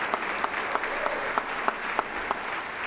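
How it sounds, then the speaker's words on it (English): An audience at a 2011 scholarship banquet applauds, with steady clapping from many hands and sharper individual claps popping out at regular intervals, sustained throughout. "let's give them a round of applause."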